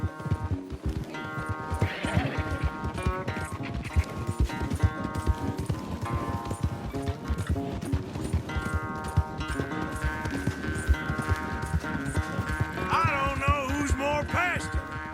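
Horses galloping in the Western video game Red Dead Redemption 2 during a race, with steady clip-clop hoofbeats running throughout under a continuous musical score.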